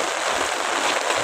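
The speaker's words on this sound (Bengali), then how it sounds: "হঠাৎ বৃষ্টিটা আয়া পড়লো" A sudden outdoor downpour makes a dense, loud, even hiss of rain on surfaces for a brief moment, with no talking.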